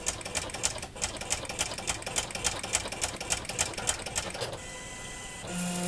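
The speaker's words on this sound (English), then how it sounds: "It is a noisy machine." An electronic cutting machine, about twice as noisy as a Cricut, runs with a fast, steady mechanical chatter of regular ticks and whirs, then shifts to a smoother hum with a brief tone near the end.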